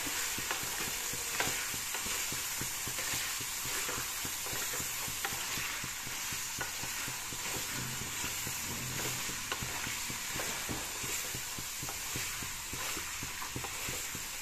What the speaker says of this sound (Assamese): প্ৰায় 10-15 মিনিট সময় এনেকৈ ভাজি লওঁ